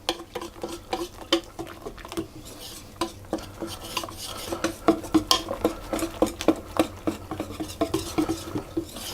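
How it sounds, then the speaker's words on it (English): A whisk beating flour and eggs in a bowl for a lemon square topping, rapid irregular clinks and taps of metal against the bowl, close and fairly quiet, quickening toward the end. "So you just whisk that until you can be sure there are no lumps to be seen."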